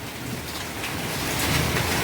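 Heavy rain driven by a storm in Surendranagar pours in a loud, dense, continuous wash, close by and building slightly, with no voices heard.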